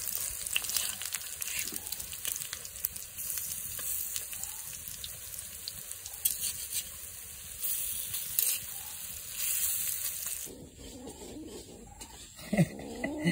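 Lentil fritters (dal bora) frying in hot oil in a village kitchen: a dense, steady crackling sizzle that carries on for a long stretch, then thins out and gives way to scattered clatter and movement near the end.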